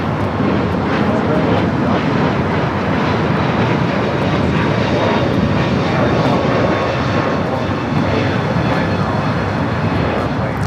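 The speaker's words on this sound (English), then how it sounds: "This is United Flight 1498 going to Chicago O'Hare on a 1-year-old Airbus 321neo." United Airlines Airbus A321neo airliner, about a year old, bound for Chicago O'Hare at LAX, a loud steady engine roar filling the whole stretch with a close, continuous broadband rush.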